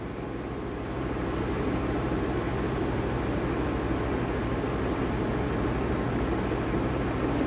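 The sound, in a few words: sewing machine double-stitching blouse tucks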